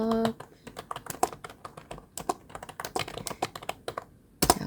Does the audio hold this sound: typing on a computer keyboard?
yes